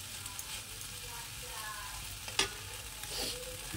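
Food is dry-frying in a pan with a faint, steady sizzle and light scraping of stirring throughout, and a brief clink partway through.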